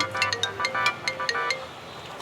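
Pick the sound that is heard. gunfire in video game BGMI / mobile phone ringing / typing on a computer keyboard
mobile phone ringing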